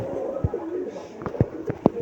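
Coos from a healthy pair of pigeons offered for sale, a female and a male, come as several short low murmuring bursts spaced through the moment over a steady background hum.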